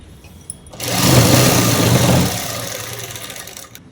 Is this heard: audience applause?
no